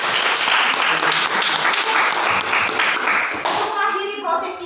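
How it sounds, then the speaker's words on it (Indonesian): Students in a high school biology class applaud together, giving a burst of steady, dense clapping that fills the room, with some children's voices mixed in before it thins out toward the end. "Kita berikan aplaus untuk kita."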